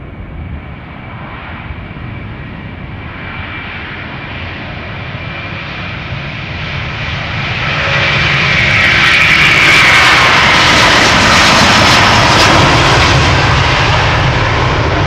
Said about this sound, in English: This is Delta Airlines Flight 47 going to New York, JFK. Another A330-300.